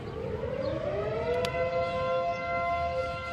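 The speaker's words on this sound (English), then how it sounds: "Fire department's going to work." A fire department siren wails in the distance, its rising and falling tone sustained and clear over a steady background rumble, with no voices.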